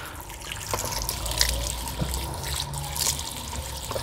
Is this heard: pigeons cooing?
no